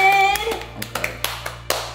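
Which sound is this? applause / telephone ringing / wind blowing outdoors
applause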